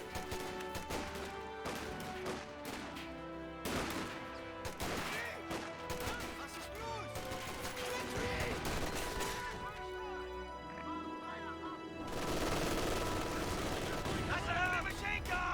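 An MG42 machine gun fires in Company of Heroes 2 amid battle noise, with sharp rapid bursts, scattered shots and crashes that grow louder in the final seconds, under steady commentary.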